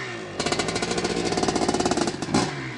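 A 1982 Maico MC250 two-stroke motorcycle engine idles close by, with a steady rapid firing rattle that starts abruptly, runs evenly, then rises briefly in a short rev near the end.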